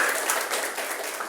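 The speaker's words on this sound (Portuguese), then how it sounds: "Eu peço uma salva de palmas para o Hilton, para o Zé Carlos" A crowd claps and applauds for poets at a cultural gathering, a dense, continuous patter of many hands that is loud and close.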